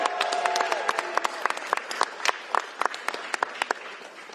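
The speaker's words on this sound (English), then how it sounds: "Give a round of applause for Representative Fitzgibbon." A round of applause at a government bill signing, with scattered, distinct hand claps from a modest crowd that thin out and grow sparse; a brief tone is heard at the start.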